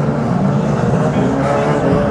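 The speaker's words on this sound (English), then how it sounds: "The big cars as they race through, as Chicken Heads has a pop at the Hurst." Unlimited banger racing cars roar around an oval track at Mildenhall, a loud continuous engine drone with a commentator talking over it.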